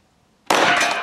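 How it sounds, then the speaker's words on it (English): Single 10mm round from a Glock 20 pistol striking a target, a sudden sharp loud crack-and-clatter after silence, ringing briefly. "Now we're gonna shoot it with the 10mm"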